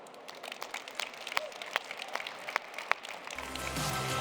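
An audience applauds at a startup pitch awards ceremony, with scattered, moderately distant claps that build into steadier applause and a rising rumble near the end.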